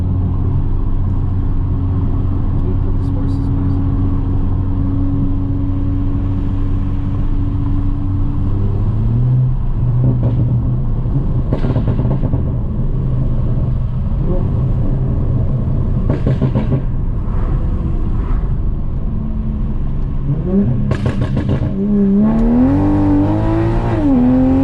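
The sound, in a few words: tuned 2020 Supra accelerating hard in manual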